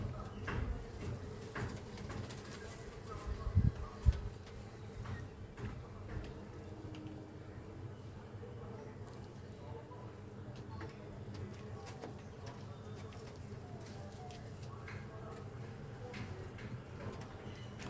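A newly paired male pigeon coos in low, steady, repeated phrases for the whole stretch, moderately faint, with a couple of brief louder knocks near the start.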